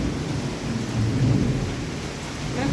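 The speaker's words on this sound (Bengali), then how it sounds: "তুফান বৃষ্টি দিচ্ছে, আর বাজ এত জোরে জোরে বাজ দিচ্ছে" A thunderstorm pours heavy rain, with a dense, loud wash of rain and a low rolling thunder rumble swelling in the middle. It runs steadily throughout with no voices.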